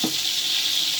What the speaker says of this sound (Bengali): খিচুড়ির জন্য পেঁয়াজগুলো আমি খুব ভালোভাবে ভেজে নিচ্ছি।